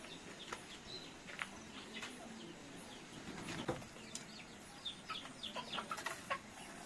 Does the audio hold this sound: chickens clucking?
yes